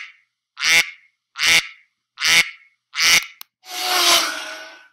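A duck sound effect gives four loud, evenly spaced quacks followed by one longer, raspier drawn-out quack, each standing alone against silence.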